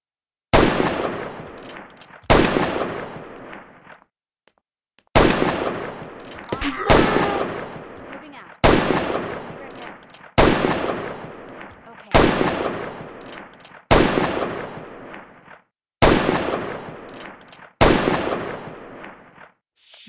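Shots from a VM24 gun crack out one at a time in a video game bounty hunt, with about a dozen loud, sharp reports spaced a second or two apart, each one ringing and fading before the next.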